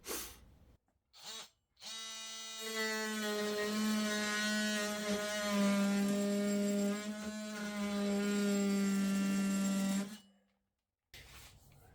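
A DeWalt DCS355 multi-tool with a cheap fine-tooth blade cutting MDF, opening with two short bursts, then a loud, steady buzzing drone for about eight seconds before stopping, followed by a brief restart.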